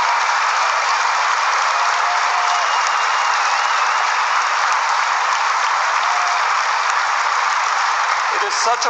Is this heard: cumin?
no